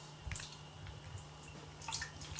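Chicken stock is poured into a pot for cooking rice, heard as faint, quiet splashing and dripping liquid with a few brighter splashes and a low steady hum beneath.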